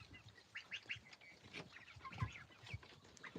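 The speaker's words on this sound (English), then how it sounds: "I think that's a happy hen." Near a hen clucks softly in a low, relaxed stream of short notes, among faint farmyard noise from other chickens and ducks, with no talk.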